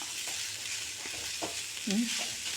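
A gram flour mixture fries and sizzles quietly in a pan with soft broadband hiss and a few light stirring scrapes, one brief clunk near the end.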